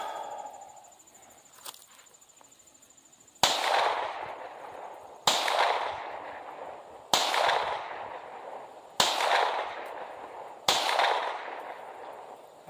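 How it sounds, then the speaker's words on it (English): A PSA Dagger pistol fitted with a Glock performance trigger fires five sharp, loud shots at a steady pace about 1.5 seconds apart. Each one rings out and decays over faint insect chirping, with no talking. "We're going to go ahead now and shoot 3 5-shot groups here at 7 yards."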